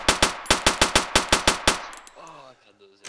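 Automatic gunfire in the Arma 2 video game rings out as a fast, even burst of about a dozen loud, close shots, then stops abruptly and leaves fainter game sounds behind.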